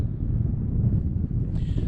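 A breeze blows off the estuary at Barmouth railway bridge, a soft low rumble of wind buffeting the microphone, steady and fairly faint, with a brief higher noise near the end.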